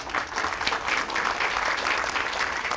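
An audience claps for a man at a garden inauguration in Port-au-Prince, with steady, dense applause that runs the whole time without a break.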